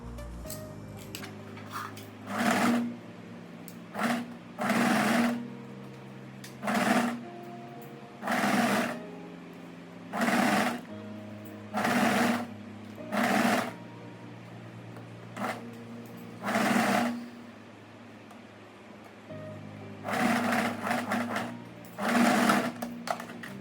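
A sewing machine stitches a vest or waistcoat seam from underarm to shoulder in repeated whirring bursts of a second or two, separated by short quiet pauses, close and clear with no voice.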